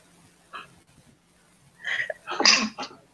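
A single sneeze bursts out loudly after some faint breathing and small sounds, followed by a short snort.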